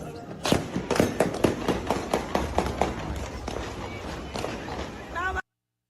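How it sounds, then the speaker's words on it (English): A rapid string of loud firecracker pops crackles in an uneven rhythm for several seconds, then cuts off abruptly. "Firecrackers! Fireworks."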